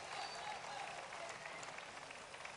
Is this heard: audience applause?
yes